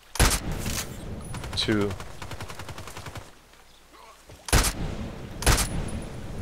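Sniper rifle gunfire in the online shooter Contract Wars, several sharp loud shots spaced apart, with a voice talking between them.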